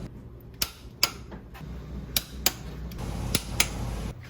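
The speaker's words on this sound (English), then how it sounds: "With 65 foot-pounds, we'll check the head bolts." A torque wrench is set to 65 foot-pounds to check motorcycle head bolts on an AMF Shovelhead Lowrider, giving sharp, distinct clicks spaced irregularly over a quiet, low workshop hum.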